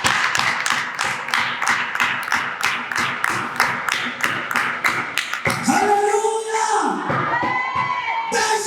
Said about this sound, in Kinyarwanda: Rekera komera Imana amashyi.